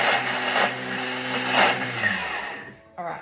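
A Thermomix whirs loudly at speed 9 for a few seconds, chopping bolognese ingredients, its motor whine wavering until it stops, followed by a person beginning to talk.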